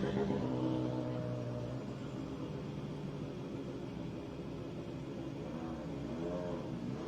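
Skoda Fabia rally car at a start podium, a steady engine rumble and hum heard from a moderate distance, continuous throughout with no rising revs.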